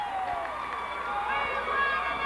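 A high school boys basketball crowd in a 1992 gym roars after a block, a sustained, broad cheer with shouting throughout, moderately loud.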